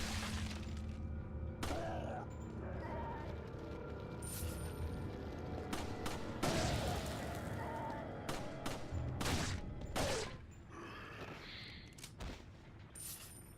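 Pistol shots ring out in the Resident Evil 4 video game amid an industrial setting, several sharp bursts spaced irregularly over a steady game soundtrack and ambient hum.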